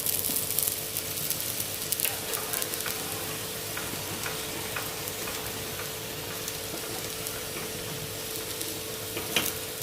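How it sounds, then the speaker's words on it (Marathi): A spinach and potato mixture, spread thin in a pan over low heat with a little oil, fries with a steady soft sizzle and crackle, with occasional light clicks and scrapes. "कमी गॅसवर मस्त असं पातळ पातळ पातळ पसरवायचं मिश्रण बटाटे असे भाजले जातात ना मस्त"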